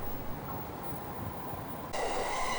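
A train pulls into a Tokyo station platform with a low rumble, then a bright, loud tonal whine and squeal rises sharply near the end as it arrives, with no voices.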